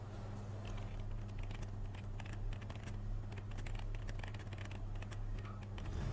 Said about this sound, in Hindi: उस लाइन को यहाँ पर हम टाइप करते हैं